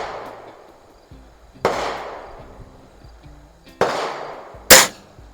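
Crosman Optimus break barrel springer air rifle firing at the range, three sharp, loud cracks spaced a couple of seconds apart with lead pellets, each followed by a brief decaying tail; no talk.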